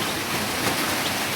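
Rain pours steadily into containers set out to catch water for washing dishes, a loud dense hiss of drops striking surfaces for just over a second, with no voices.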